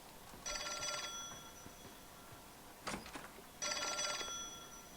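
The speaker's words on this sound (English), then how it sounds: "I hear a phone call?" A telephone rings in the video game L.A. Noire, two bursts of a bright electric bell separated by a short gap, with a faint clatter between them over a low steady background hum.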